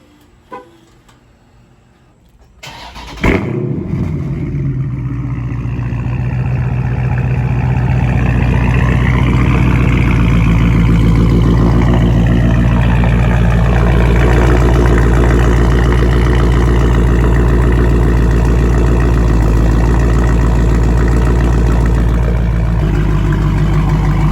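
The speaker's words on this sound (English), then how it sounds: "start the car up so you guys can hear the exhaust" A 2019 Dodge Challenger widebody Scat Pack, started warm rather than cold, fires up with a quick crank and burst, then settles into a loud, steady, deep exhaust rumble at idle that continues unbroken.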